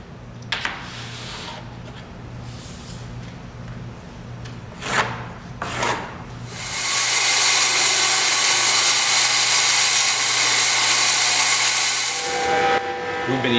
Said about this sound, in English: Tom's using the CNC with a 1/2-inch straight cutting bit, running between two boards to cut a perfect seam.